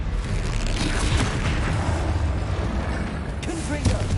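A Bombarda exploding spell goes off in Hogwarts Legacy: a dense, booming blast that rumbles steadily for several seconds amid game effects, with a voice talking over it.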